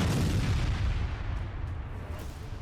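A landmine buried in sand detonates beneath an advancing army tank: a heavy, roaring blast with dense low rumble that stays loud and sustained throughout, tapering only slightly toward the end, with no voices.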